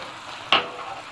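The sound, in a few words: stirring carrot halwa with powdered milk in a pan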